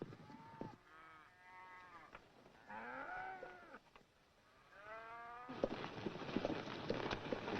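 Several cattle moo in turn across a ranch range, long drawn-out calls overlapping near and at middle distance, with a rougher outdoor noise of the herd rising toward the end.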